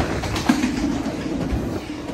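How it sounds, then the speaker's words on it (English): A long BNSF double-stack freight train rolls past Richmond station in California, a steady, loud broadband rumble with faint rhythmic wheel clatter running throughout. "This is a BNSF stack train going by the Richmond Station."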